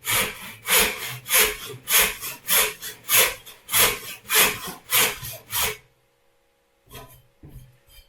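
A hand saw cuts down the middle of a wood joint for a toy train, about a dozen steady, rasping back-and-forth strokes close up, then it stops, with a few faint knocks after a pause.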